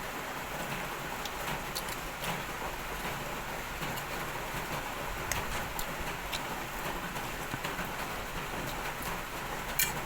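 Light rain falls steadily outdoors, a continuous soft hiss with scattered faint drip ticks, even and unbroken throughout with no voices.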